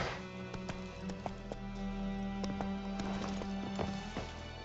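Roach, a horse in The Witcher 3, galloping with a steady rhythmic clip-clop of hooves over a low ambient hum, with a faint snort or whinny.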